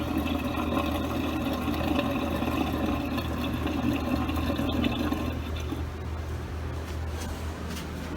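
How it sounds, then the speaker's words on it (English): Samsung dishwasher draining into a kitchen sink, a steady watery rush and gurgle that holds for several seconds, then fades to a quieter trickle. "which you can hear the sink is gurgling right now"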